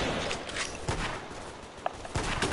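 Gunfire from a teammate in a war video game, a rapid fusillade of shots and distant cracks over a dense battlefield din, fairly loud and continuous.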